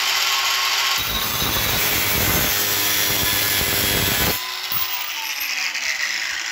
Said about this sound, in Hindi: ये मेरे पास एक कांटा है, मैं इसको यहाँ से काटता हूँ